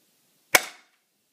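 A Double Eagle M21 BB gun fires one sharp, close crack with a short decaying tail, isolated in otherwise quiet surroundings.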